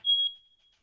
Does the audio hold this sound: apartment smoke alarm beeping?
yes